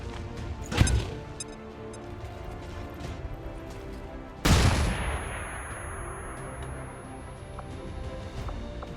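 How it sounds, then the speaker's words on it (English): An explosion in the XCOM 2 video game, a loud sudden blast at about four and a half seconds that decays slowly over several seconds, following a sharper shot-like bang near the start. "There's always a chance of a critical explosion."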